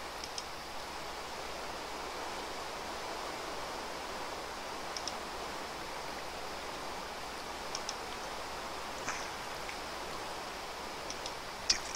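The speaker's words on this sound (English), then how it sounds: "But because it's raining" Soft, steady patter of Minecraft rain at night with an even hiss, broken by a few faint clicks and taps.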